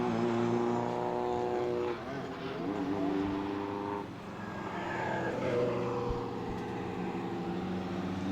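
Drift cars battle at Ebisu circuit in Japan during a Formula Drift top 16 to finals run, with a continuous, distant engine roar that rises and falls over about eight seconds and no voices on top.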